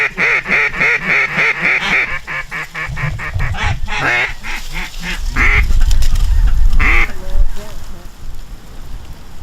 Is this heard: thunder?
no